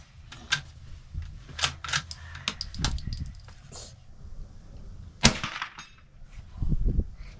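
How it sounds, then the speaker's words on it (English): A Ruger Precision Rimfire .22LR rifle fires at an outdoor range, producing several sharp, light cracks spaced irregularly over a low background rumble, with one louder report standing out. "That was us shooting it."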